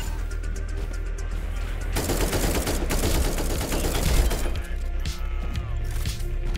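A rapid burst of gunfire rattles out from a gun in the video game Echo Point Nova. It cuts in sharply after a quieter start and fires as a dense, loud stream for a couple of seconds before easing off.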